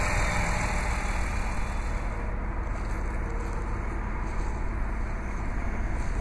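A 2009 Jeep Wrangler Unlimited's 3.8-liter V6 idles continuously, a low even rumble with a constant drone and no revving, heard alone throughout.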